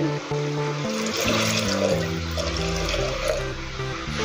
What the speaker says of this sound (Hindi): इसमें अभी हम पानी डालेंगे